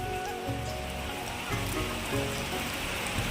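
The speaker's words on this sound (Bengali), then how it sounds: "ওইদিকে বাইরে বৃষ্টি হচ্ছে" Rain falls outside with a continuous hissing patter, with a low droning hum running beneath it throughout.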